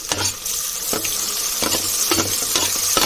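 Golden onions and chopped tomatoes fry in oil for tomato bath, a close, steady sizzle broken by repeated scraping strokes of a stirring spoon at a regular pace, with no voice.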